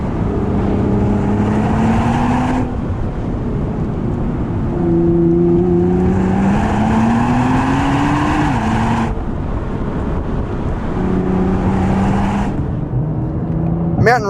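A 2020 Nissan GT-R 50th Anniversary Edition engine revs hard through several gears, pitch climbing then dropping at each shift, with brief pops and crackles from the exhaust between upshifts.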